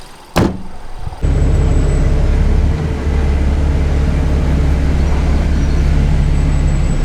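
Riding aboard a bus, a steady loud low engine rumble and road drone fills the cabin after a brief thump, continuing evenly throughout without speech.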